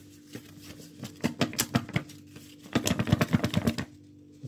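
A fallen, dry bamboo leaf handled and torn by hand: rapid crisp crackles and snapping rips in two dense bursts over a low steady hum, close to the microphone.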